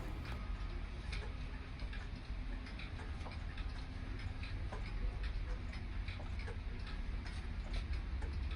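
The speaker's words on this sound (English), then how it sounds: "I just want to stop and listen to the clocks that are in here." Many clocks tick steadily together in a shop, overlapping regular ticks forming a soft continuous clatter over low background hum.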